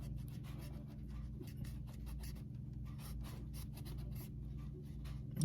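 A blade cuts through GoPro float material with a faint, steady scratching and rasping, quiet and close, alone without talk.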